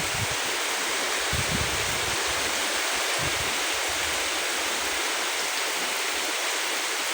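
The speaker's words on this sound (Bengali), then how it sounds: "প্রচুর বৃষ্টি হচ্ছে" Heavy rain pours down beside a river and small canal in the Sundarbans, a steady, dense hiss of falling water that fills the whole stretch without a break.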